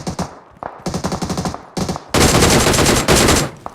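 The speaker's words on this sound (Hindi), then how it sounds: "अब मुझे सामने से ऑग और डीपी की आवाज़ आई" AUG and DP automatic weapons fire in a video game, rapid bursts of gunfire in short clusters giving way to a loud continuous stream of shots.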